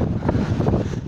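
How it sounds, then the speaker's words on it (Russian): Storm wind roars steadily across a seaside beach, a close, loud, unbroken rush with buffeting gusts. "слышали свист ветра"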